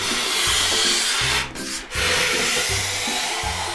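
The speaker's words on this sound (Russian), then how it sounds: "Да, берем нож, вырезаем лишнее." A knife scraping and shaving a wooden stick indoors, steady rasping strokes close up and loud, repeating in a regular back-and-forth rhythm with a brief pause midway.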